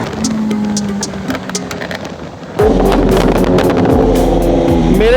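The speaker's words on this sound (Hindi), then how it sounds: "अब आपको फाइनल रन दिखाएंगे बाइक का।" BMW S1000RR sport motorcycle with a Stage 2 tune on a fast final run, engine droning steadily at first, then a sudden loud surge into hard, close, roaring high-rev acceleration sustained to the end, with wind noise.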